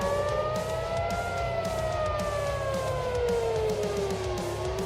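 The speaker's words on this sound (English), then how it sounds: "Okay, the sirens are going off here." Air raid sirens wail loudly, their long rising and falling tones sweeping steadily over a continuous background rumble, with no talk.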